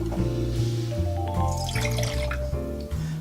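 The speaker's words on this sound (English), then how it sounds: "fill both cups of water and pour them into the coffee pot" Water poured from cups into a Turkish coffee pot, a continuous splashing pour with a rising fill tone heard up close, no talking.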